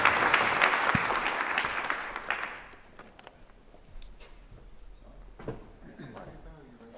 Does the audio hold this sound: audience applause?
yes